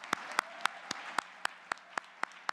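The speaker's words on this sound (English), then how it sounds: "let's give a round of applause to Ken and Foot Locker." Sparse, rhythmic clapping from an audience at an industry annual dinner, sharp evenly spaced claps standing out over a quiet room, fairly faint overall.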